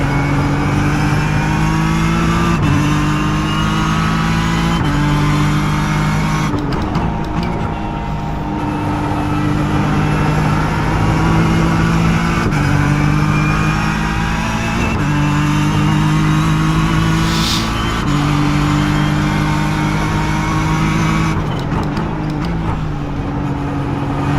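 Steady, loud race car engine droning in iRacing at Watkins Glen, holding a high, sustained pitch with brief shifts and dips in revs across the lap, heard continuously from on board with no talk.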